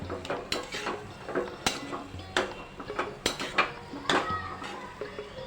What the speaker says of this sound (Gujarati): મિક્સ કરી લઈશું બધું બરાબર મિક્સ કરી લઈશું